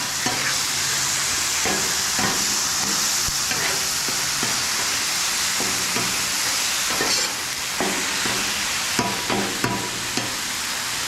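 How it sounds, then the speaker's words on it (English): Minced garlic stirred into chicken tortellini in a hot pan: a steady, close sizzle with repeated scrapes and clacks of the utensil against the pan, no talking. "We like us some garlic, so we're going to mix that in."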